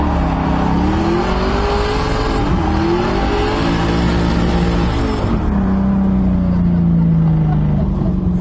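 A drift car fitted with an electric steering column roars through a drift event, its engine revving hard and loud with rising and falling pitch, holding a steady high drone toward the end.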